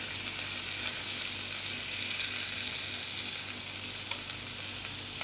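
Steady, close sizzling of duck meat frying in a hot pan, a continuous crackling hiss with one brief sharp pop near the end.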